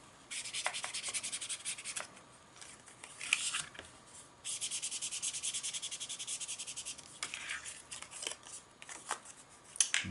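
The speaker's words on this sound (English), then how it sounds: "ink up the top of the card." A card's top edge is inked with an ink pad or blending tool, making close, steady scratchy rubbing strokes in repeated bursts with brief pauses, fairly quiet and without talk.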